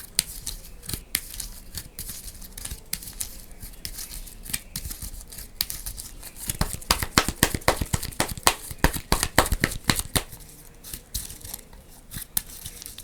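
Playing cards for the Marvel Champions card game are shuffled into a deck nearby, giving bursts of crisp riffling and snapping card clicks that grow busier in the middle before easing off.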